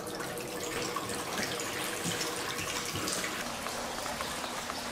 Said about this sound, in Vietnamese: các bạn xả nước đầy đầy hết mấy cái bồn nha